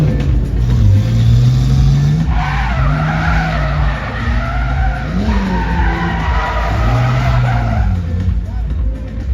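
A drift car at the Romanian Drift Championship skids with loud, sustained tire squeal while its engine revs rise and fall, with people talking nearby throughout.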